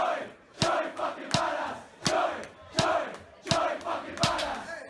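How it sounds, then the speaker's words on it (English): Football crowd chanting in tight unison, loud rhythmic bursts landing about every 0.7 seconds with sharp accented claps or stamps on each beat, a dense mass of voices swelling between them. "You can actually set a metronome to the crowd's chanting."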